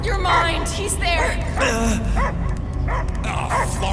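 In the Guardians of the Galaxy video game, a dog barks, yips and whimpers in short bursts, partly buried under a dense bed of music, effects and overlapping voices.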